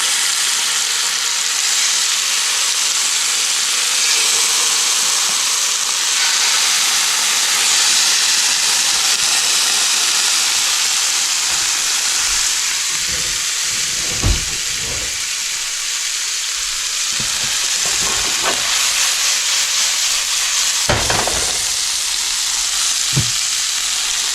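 Beer-battered walleye fillets fry in a very hot pan, giving a loud, steady sizzle and hiss of oil throughout, with occasional sharper pops and crackles as the pieces cook.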